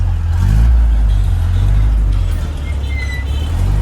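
Steady low engine rumble and road drone from inside a moving car, heard continuously with a faint voice briefly in the background.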